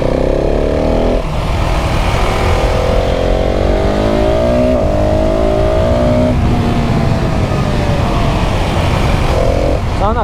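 A KTM 690 SMC R single-cylinder motorcycle pulls hard on a mountain pass road, its engine loud and close as it climbs through several gears with quick-shifter changes. Heavy wind noise runs underneath, and nobody speaks.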